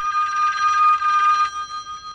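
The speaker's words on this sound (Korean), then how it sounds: "그때 울리는 전화벨 소리." A telephone rings with a shrill electronic trill for about a second and a half, then stops, heard alone and close.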